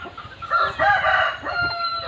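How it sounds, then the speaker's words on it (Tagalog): Native chickens on a farm cluck and crow close by, a short, loud burst of overlapping fowl calls with a rising crow in the middle. "may kasamang mga native chicken"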